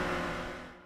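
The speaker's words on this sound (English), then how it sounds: "This is the sound of a Toyota GR Supra deep in a drift." A Toyota GR Supra deep in a drift, its loud engine and tire noise roaring close by, then fading quickly within a second.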